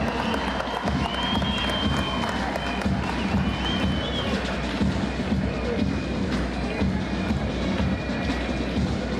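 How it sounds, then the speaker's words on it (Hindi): Crowd applause at a Sikkim Police President's Colour award parade, a dense continuous wash of clapping and cheering lasting throughout, with no speech over it. "गड़गड़ाहट तालियों के साथ"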